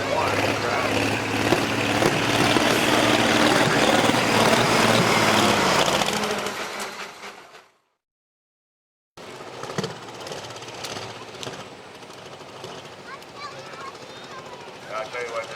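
Pulling tractor engine at a truck and tractor pull, a loud sustained roar for about six seconds that fades out, then a gap of silence before distant engine noise and crowd ambience return.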